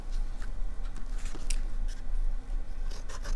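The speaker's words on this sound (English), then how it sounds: "Cut out the circle." Scissors snipping around a pencil-drawn paper circle for a watercolor Christmas card, a close run of short, crisp cuts and rustling paper repeating steadily.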